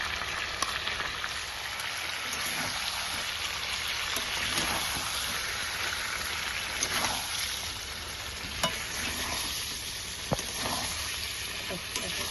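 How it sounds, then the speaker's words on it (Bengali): Chicken sizzles in a little oil with a ground masala paste while being stirred for chicken kasundi, a steady close frying crackle with occasional utensil scrapes and clicks. "এই মশলাটা দিয়ে আমি চিকেনটাকে কষাবো"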